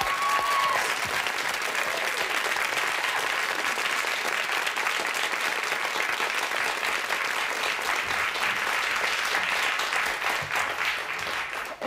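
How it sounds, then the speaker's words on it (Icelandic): A studio audience on a television show applauds in a long, steady burst of dense clapping that holds for about twelve seconds before it begins to fade. "Skulum gefa honum gott klapp."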